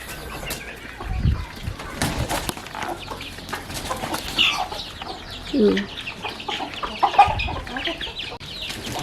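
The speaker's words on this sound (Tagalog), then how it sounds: "As usual guys, nagpakain ako ng manok." Backyard chickens cluck and murmur while being fed, with occasional wing flaps and short calls scattered over a busy outdoor background, fairly close.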